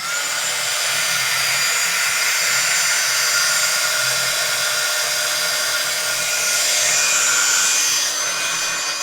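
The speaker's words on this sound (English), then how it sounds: "Now I'm going to take out my heat gun." A heat gun blows hot air onto foundry wax on a crafted slider card, a loud steady whirring hiss that runs unbroken throughout, close up with no talking.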